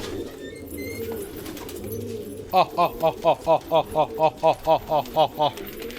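Pigeons kept in a loft coo in a rhythmic series of about a dozen soft, evenly spaced calls close by, after a stretch of low murmuring and background noise.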